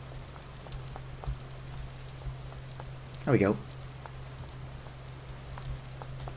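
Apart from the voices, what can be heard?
rain falling in Vintage Story video game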